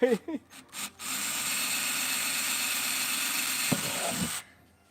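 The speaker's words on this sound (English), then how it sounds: "We're drilling holes." A power drill bores holes for about three seconds with a steady, loud whir, then winds down. Brief speech comes before it, and a few thumps follow.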